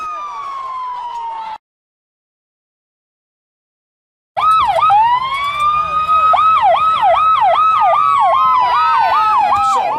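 Emergency vehicle siren up close and loud, a long rising wail that breaks off into silence, then returns as a sustained tone shifting into rapid rhythmic yelping cycles, with engine rumble underneath.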